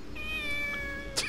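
A cat meows in the video game Shenmue: one drawn-out, clear meow rising and falling over steady background ambience, followed by a brief soft noise burst near the end.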